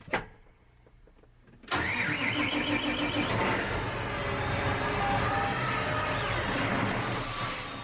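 A tractor engine cranks briefly, then catches and runs steadily at a loud, even idle for several seconds.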